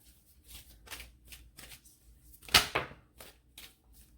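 Tarot cards shuffled during a reading, giving a soft riffling patter of repeated brushes and one louder, sharper burst of cards snapping together midway, close and quiet with no voices.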